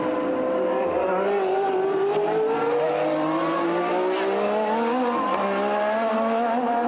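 Formula One race cars from 1981 at the US West Grand Prix, among them a new Williams on radial Michelin tyres, scream past with high, rising and falling engine notes that overlap continuously at close range.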